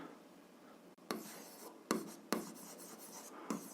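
A pen scratches across paper while writing out an algebra exercise, a soft steady rasp broken by a few sharper strokes and taps, close and quiet with no voices.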